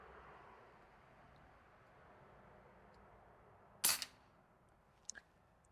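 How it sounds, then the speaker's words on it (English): One sharp crack from an Air Venturi Alpha Standard PCP air rifle rings out close and loud over a quiet outdoor hush, followed a second later by a fainter double tick. "So these are actually the first 4 shots out of this."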